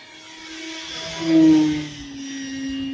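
An E-Flite Commander mPd radio-controlled plane's motor whines steadily, swelling louder as it passes close, then easing off into a continuous high-pitched drone, flying in winter.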